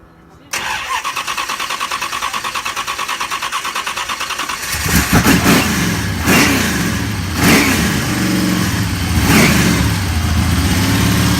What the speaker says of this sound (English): We'll just wait for him to start the car up now.